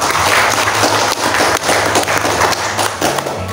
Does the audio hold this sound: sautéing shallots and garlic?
no